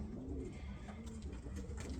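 A pair of racing pigeons cooing softly in a loft, low repeated throaty coos close by over a steady background hum.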